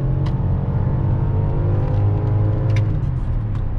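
A BMW X5 E53 4.4i V8 with an automatic gearbox accelerating hard from inside the cabin, its deep steady engine rumble and rising drone continuous and loud, with no talk.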